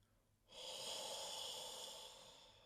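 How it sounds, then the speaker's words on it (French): A single long breath drawn in through the mouth as a breathing exercise, starting abruptly after a moment of quiet and holding as a steady, airy hiss for about two seconds before easing off slightly. "Ça, c'est l'inspire."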